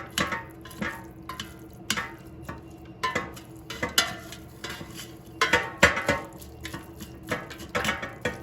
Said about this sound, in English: I'm going to completely break up the ground beef. So break it up and then also mix it